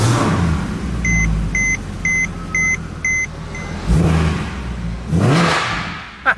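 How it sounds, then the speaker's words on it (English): A Mercedes-Benz car being started: five evenly spaced electronic chimes ring out, then the engine cranks, catches and revs twice with loud rising surges, heard close with no talking. "we're ready to start the car up"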